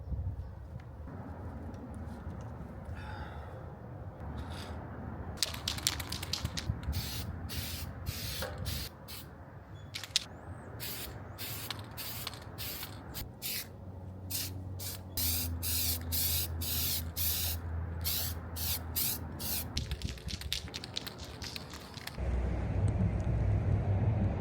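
Another coat of spray paint goes onto a winch mount part for a third-gen 4Runner, heard as a string of short, close hissing bursts with brief pauses between them.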